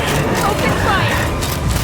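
Video game gunfire in Genshin Impact, a dense, continuous battle volley of shots and booms that fills the whole stretch loudly, mixed with speech.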